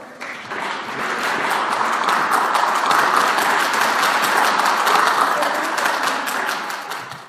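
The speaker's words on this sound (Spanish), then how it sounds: "Un aplauso, por favor." Conference audience applause rises quickly and holds as a dense, even wash of clapping for several seconds, then tapers slightly at the end, with no voices over it.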